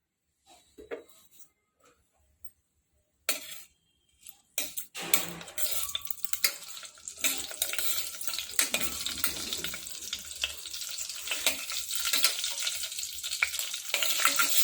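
Urad dal, mustard seeds and cumin frying in hot oil for a tempering, a faint start giving way to a loud, dense, steady sizzle and crackle, close up with no talk.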